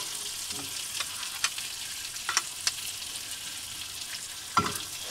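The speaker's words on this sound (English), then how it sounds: "we can add our steaks. Let those sear on both sides for 2 to 3 minutes" Filet mignon steaks searing in a pan on a stove inside a camper van give a steady, close hiss of frying, with sharper pops and crackles bursting out now and then.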